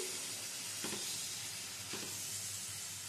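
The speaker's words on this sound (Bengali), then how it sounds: "এবারে মশলাটা ভালো করে কষিয়ে নিতে হবে 3 থেকে 4 মিনিট ধরে।" Spice paste being sautéed in a pan over low-to-medium gas for a potato and pumpkin curry, a dense continuous sizzle and hiss with a couple of soft stirring scrapes, close and fairly quiet, no voices.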